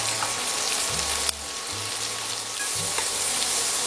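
Onions and bacon lardons fry steadily in melted butter, a continuous close sizzle with faint crackles throughout and no voices.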